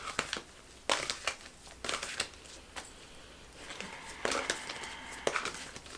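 Cards from the Magdalene tarot deck are handled and drawn, producing close, crisp crinkling and flicking sounds in uneven bursts, with a soft, papery shuffle between sharper snaps.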